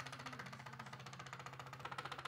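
A struggling electric motor on a homemade smart desk runs at very low speed, giving a faint, rapid rhythmic chugging pulse with a labored, uneven knock, steady throughout and heard alone.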